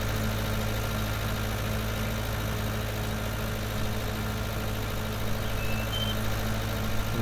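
A 90-horsepower tractor idling in a farming simulator game: a steady, continuous low engine drone at constant loudness with no change in pitch, heard alone without talk.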